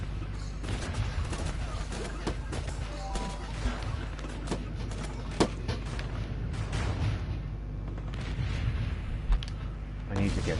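Rapid artillery-strike explosions from a base-defense video game thump and crackle in dense, irregular bursts, a steady barrage of booms under faint game noise for the whole stretch.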